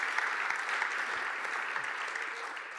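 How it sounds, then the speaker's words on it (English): Audience applauding panel speakers after a discussion on raw material scarcity and the European battery industry, a dense steady roar of clapping from a large crowd, moderately loud and continuous with no speech over it. "Let's give them an applause for their insights and comments."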